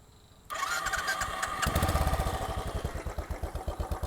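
A 2020 Royal Enfield Bullet Trials Works Replica 500 motorcycle with a JMCA exhaust cranks and catches, then settles into a loud, steady, thumping idle close by, no voices.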